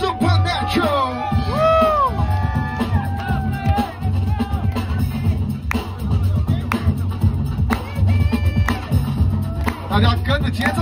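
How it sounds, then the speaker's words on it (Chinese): Lively crowd noise at a breakdance battle during a judge showcase, with whoops, yells and a steady babble of voices over a booming beat, the cheering sustained and loud throughout. "所以大家尖叫声掌声给我们"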